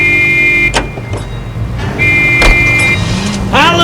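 A car in the video game L.A. Noire runs with a steady engine hum, broken by sharp clunks and short mechanical whirs.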